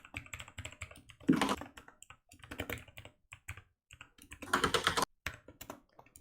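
Computer keys clatter in close, uneven bursts during C programming work, with dense flurries of fast typing broken by pauses and isolated taps.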